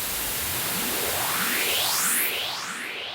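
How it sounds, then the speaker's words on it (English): A broad hiss of white noise swept by a high-pass filter in Bitwig, the sound thinning and rising in pitch over about three seconds. "what this is, if you listen to this, is just white noise over time"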